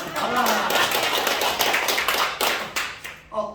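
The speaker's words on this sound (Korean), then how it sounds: "박수 한번 주세요." An audience bursts into applause at a live event, a dense, loud patter of many hands clapping for several seconds before it thins to a few scattered claps at the end, with no talk over it.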